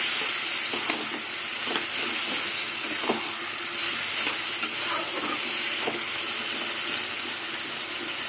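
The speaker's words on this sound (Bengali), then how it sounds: "এবার সব কিছু দিয়ে মিশিয়ে ঢেকে ঢেকে কচু শাকটা সুন্দরভাবে রান্না করে নেব" Taro leaves with fried prawns hiss and sizzle steadily in a pan while being mixed, with soft scrapes and stirring knocks under a dense, even frying noise. No one speaks.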